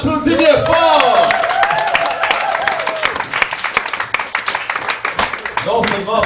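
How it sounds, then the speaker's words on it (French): A crowd applauds after a poet's spoken-word performance at a French poetry night, clapping swelling up under a host's loud voice, thinning into scattered claps and then rising again near the end. "on l'applaudit bien fort!"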